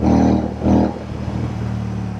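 A Royal Enfield Shotgun motorcycle fitted with AEW exhaust pipes gives two loud, close throttle blips, then settles into a steady, rumbling idle.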